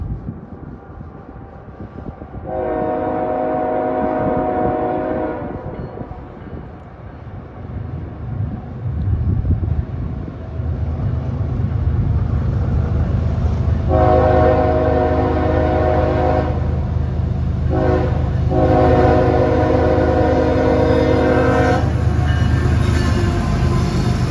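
A CSX M326 freight train led by two locomotives climbs the Saugatuck Hill grade in snowy country, its horn sounding long loud blasts over a steady heavy engine rumble.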